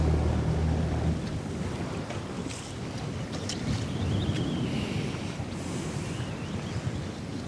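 Strong wind roars steadily across the microphone over an open lake while fishing, a continuous rushing buffet with faint lapping in the background and no voices.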